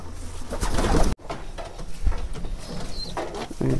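Pigeons coo and shuffle close by as they are fed inside their coop, with low throaty calls and soft patter of movement, a brief dropout near the start.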